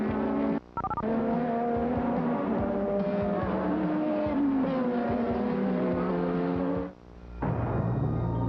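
Formula 1 race cars, including a Brabham, screaming down Pilgrim's Drop, the long straight at the 1985 European Grand Prix. Loud, sustained engine whine with pitch shifts as cars pass, briefly dropping away before another car roars in.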